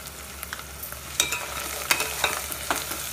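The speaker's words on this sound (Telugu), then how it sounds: "పేస్ట్ అంతా నూనెలో చక్కగా ఫ్రై అయిపోయింది కదా" Onion paste and turmeric frying in oil, a steady close sizzle broken by several sharp scraping stirs of a spoon through the pan, with no talk.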